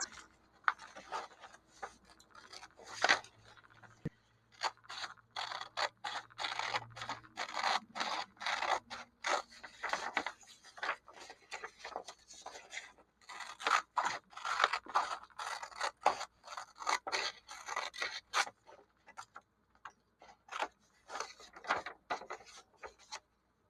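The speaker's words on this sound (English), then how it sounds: "once you've cut it all out" Scissors cutting out a paper craft at close range, with repeated crisp snips and rustling paper in uneven bursts throughout and no talk.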